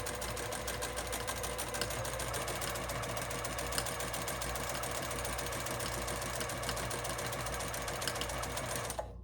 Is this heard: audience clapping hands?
no